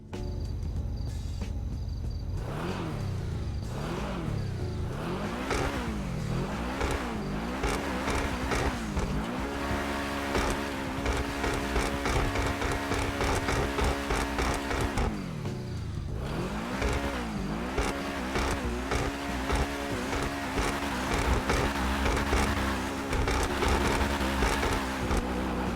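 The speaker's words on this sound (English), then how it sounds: "let's listen to how this car sounds like." The Truffade Nero, a Bugatti Chiron counterpart in GTA 5, revs its engine loud and steady, with repeated rising and falling sweeps as the throttle is blipped over and over, with no voices.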